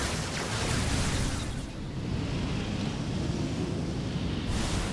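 A bombard attack explosion in Civilization: Beyond Earth, heard as a loud, sustained rumbling blast with a roaring broadband wash that dips briefly partway through, then continues with no talk over it.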